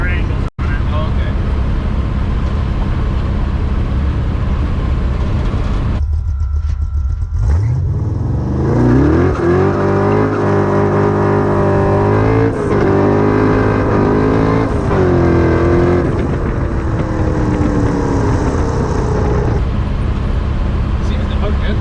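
A 1953 Chevy pickup on drag tires launching hard, the engine roaring loud and close as it revs up through the gears in a sustained rising drone, with people talking over it.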